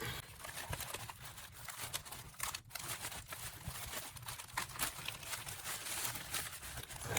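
A pair of Doc Martens shoes in a plastic bag being pushed into a padded flat rate envelope, giving a steady close crinkling and rustling of plastic and padded mailer with soft scraping and no talking.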